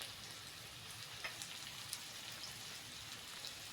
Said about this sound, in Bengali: পেঁপে আলুটা ভালো করে ভেজে নিয়েছি